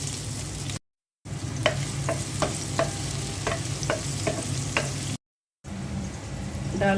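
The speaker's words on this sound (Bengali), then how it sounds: "মাছ ভাজা তেলের মধ্যে পেঁয়াজ দিয়ে দিচ্ছি।" Onions tossed into the oil left from frying fish, sizzling steadily while a utensil scrapes and taps the pan in a string of sharp stirring strokes, close up, with two short silent gaps.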